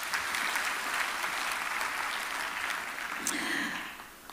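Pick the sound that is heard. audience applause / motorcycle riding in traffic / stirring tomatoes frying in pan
audience applause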